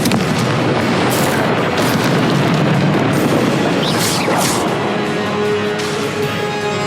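Confringo explosive spell in Hogwarts Legacy: booming blasts and bursting pops layered in a loud, sustained roar of combat effects, with brief sharp flares in the middle.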